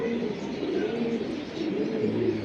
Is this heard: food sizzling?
no